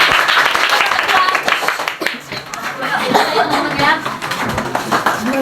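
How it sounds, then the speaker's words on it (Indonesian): A crowd claps and cheers continuously, dense applause filling the room with some laughter mixed in, loud and sustained throughout. "Tepuk tangan dulu kawan."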